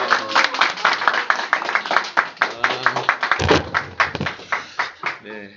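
Audience applause at the close of a Korean book-club mini lecture, a steady run of hand claps from a small crowd, fairly close, with a voice talking over the clapping.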